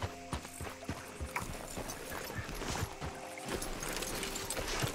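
Horse hooves clopping in the game Red Dead Redemption 2, a quick uneven run of near hoof strikes over a soft bed of lakeside ambience and shifting water-like noise, no talk.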